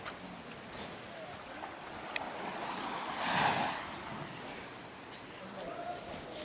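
Ocean waves surge and crash below clifftop castle ruins, a broad rushing swell building to a loud peak midway over steady surf and wind noise.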